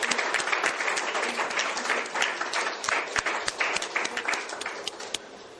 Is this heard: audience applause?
yes